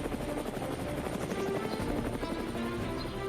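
An Indian Air Force military helicopter manoeuvring over a small supply drop zone in Arunachal Pradesh, with steady rotor chop and turbine whine continuing throughout at moderate distance and fairly low level.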